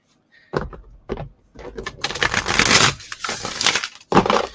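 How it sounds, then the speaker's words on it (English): Close-up rustling and slapping of large oracle cards being shuffled: a few separate flicks, then a longer dense riffle, and a final sharp shuffle. "One more shuffle."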